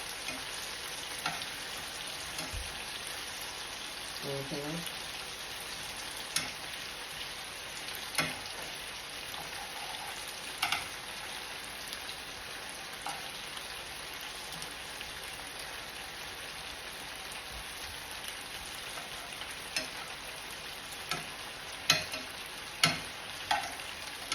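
Sausage links frying in oil in a pan, a steady dense sizzle and crackle throughout with scattered pops and occasional clinks of a utensil tossing them.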